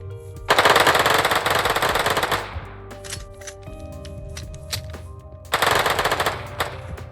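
Modded gun in Minecraft Bedrock firing a loud sustained burst, then clicking reload mechanics in a quieter gap, followed by another rapid burst of fire, all close and clear.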